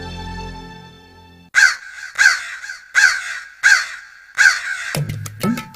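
Crows perched on a rooftop parapet give five loud, harsh caws in a regular sequence, close and clear, ending in a brief flurry of overlapping sounds.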